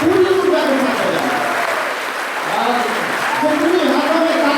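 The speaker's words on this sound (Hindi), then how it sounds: "देश के हर शहीद के नाम जोरदार तालियां बजा दीजिए" A crowd at a poetry recital claps vigorously for martyrs, a sustained loud applause wash with a speaker's voice carrying over it throughout.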